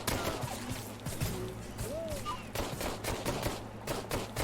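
Video game shotgun blasts in a sci-fi shooter come in a rapid burst of sharp, close reports over a dense, continuous backdrop of game noise, with electronic whistles and tonal effects weaving through.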